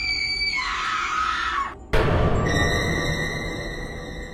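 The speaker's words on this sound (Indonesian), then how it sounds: "teriakan mengerikan dari wanita yang ada di hadapannya ini" A woman lets out a terrifying, loud scream that holds for about a second and a half, breaks off abruptly, then returns as a sustained shriek over a rumbling, eerie background in a Borneo horror story setting.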